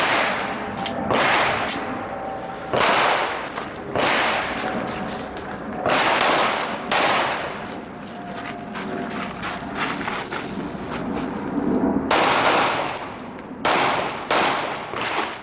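Pistol shots from a shooter working through a stage at an IDPA match at Mecklenburg Wildlife Club, sharp loud cracks in irregular bursts with a pause for a reload, close and outdoors.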